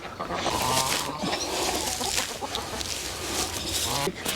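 Several farm chickens cluck and squawk continuously nearby while eating grass, with scattered higher calls overlapping throughout.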